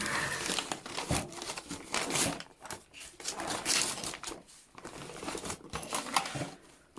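Paper wrapping is slowly peeled and pulled off a package during an art brush unboxing, giving close, irregular crinkling and rustling bursts with short pauses, no talk heard.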